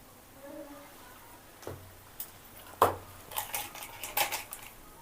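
A spoon clinks and scrapes against a bowl while turmeric powder and chili powder are stirred together, giving a few scattered, sharp metallic taps over a quiet room with faint voices.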